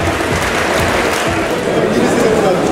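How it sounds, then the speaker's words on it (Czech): Applause from the crowd at a combat-sports fight night fills the hall as a loud, steady wash of clapping and crowd noise, with talk mixed in. "Za to jim patří obzvláště velký potlesk."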